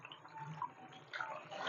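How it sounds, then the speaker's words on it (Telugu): Water pours into a half-full bucket, about two litres, a soft continuous splashing and trickle at close range with brief louder gushes, with no talking. "వాటర్ పోసుకుంటున్నానండి."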